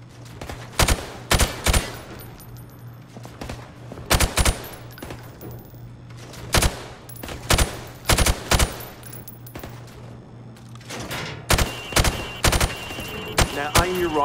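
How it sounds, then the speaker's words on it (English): Rifle fired from the hip at range targets in Call of Duty Modern Warfare Remastered, loud sharp shots in short bursts of two or three spread across the span, over a steady low hum. "Now, shoot at the targets while firing from the hip."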